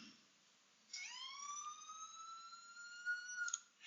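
Yelp and howler siren tones from an ESS Dual siren with a custom horn: one loud, clear tone sweeps upward, then holds a steady high wail for a few seconds before cutting off, with no other sound around it.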